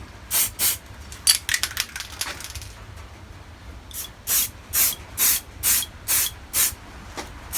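Short bursts of aerosol spray paint hissing from a can onto a tank model, a few irregular sprays at first, then a rhythmic series of evenly spaced blasts.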